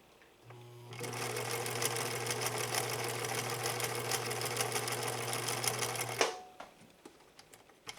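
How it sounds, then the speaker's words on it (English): A sewing machine runs a fast, steady stitch for about five seconds, a close, loud, even whirring hum with rapid needle clatter, then stops abruptly, leaving a few faint clicks. "Now we'll lay down a much, much smaller stitch"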